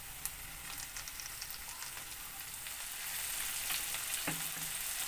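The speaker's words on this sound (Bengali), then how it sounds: "এবার এখানে যে শুটকি মাছ, 4টে কই শুটকি, সেটা আমি এই তেলের মধ্যে দিয়ে একটু হালকা করে ভেজে নেব।" Four dried koi fish (shutki) frying lightly in hot oil in a home kitchen, a continuous soft sizzle with scattered crackles that swells slightly louder toward the end, no voices.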